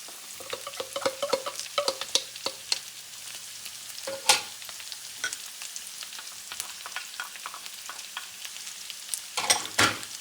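Vegetables being stir-fried for chicken fried rice, with a steady close sizzle and repeated scraping, clattering tosses of a utensil against the pan, alone with no talk.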